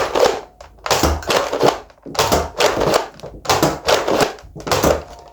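A Nerf Elite 2.0 Optimus Primal blaster fires X-Shot waffle head darts in five loud, evenly spaced bursts, each a sharp thunk with a brief mechanical rattle, heard up close with no talking.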